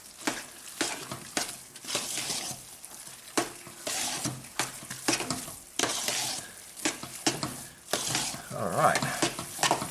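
Olive oil being stirred into a polenta meatball mixture in a pan, with repeated wet scraping and sloshing strokes in an irregular rhythm, close and moderately loud, and a brief spoken word near the start.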